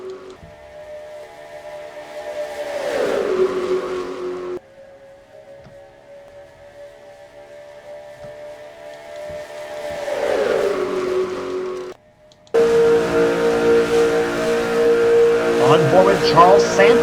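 Race cars running four wide through a turn at Daytona in a Pepsi 400 racing video game, with engine drones rising and falling as cars sweep past, loud and continuous, ending in a dense pack of engines.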